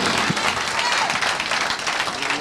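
Church congregation applauding during a sermon, a dense continuous wash of clapping that fills the space and stays steady throughout, with some voices mixed in.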